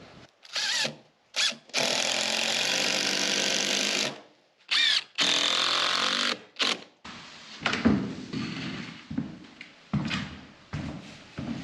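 A power drill drives Phillips screws into wooden trim in several loud bursts of whirring, separated by short pauses, followed by quieter knocking and handling of the wood.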